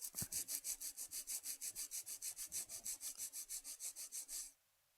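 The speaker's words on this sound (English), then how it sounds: "hold the file straight up and down, go back and forth" A fingernail is filed straight back and forth with a nail file, giving about twenty quick, even, close rasping strokes in a steady rhythm before it stops and the sound goes quiet.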